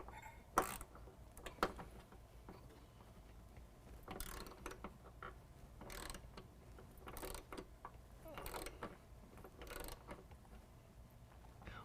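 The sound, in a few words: wrench turning bolt to compress riv nut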